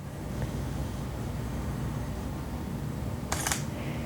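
A DSLR camera lens hunts for focus at its minimum focusing distance, a brief whirring buzz of the autofocus motor heard once near the end over steady room hiss, with no talking.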